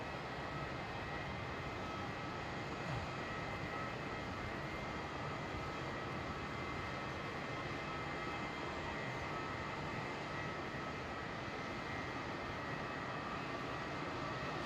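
A Qantas Boeing 737 landing at Melbourne Airport gives off a faint, distant, steady jet rumble with a soft even hiss that neither builds nor fades, and no voices are heard.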